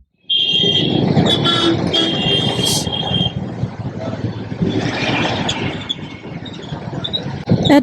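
Busy road traffic at Bandra Kurla Complex, a constant din of car and truck engines with scattered horn toots and high-pitched tones, fairly loud and unbroken.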